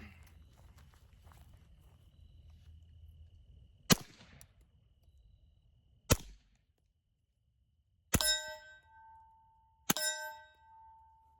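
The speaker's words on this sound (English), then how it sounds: "Then we'll take 2 shots on steel." Four sharp metallic pings from suppressed Beretta M9A4 pistol shots striking a steel target ring out at spaced intervals, the last two with a bright, lingering resonance, over a low background rumble.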